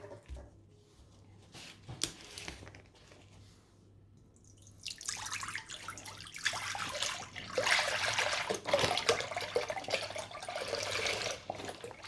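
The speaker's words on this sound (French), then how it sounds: "Nous allons verser le lait." Milk poured from a can into a bowl for salt cod fritter batter, a soft trickle at first that swells into a steady, fuller splashing stream for the second half, close, no talk.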